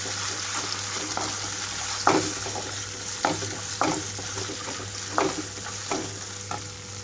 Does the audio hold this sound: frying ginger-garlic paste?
yes